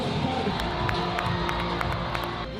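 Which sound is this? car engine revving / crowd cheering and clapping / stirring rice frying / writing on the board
crowd cheering and clapping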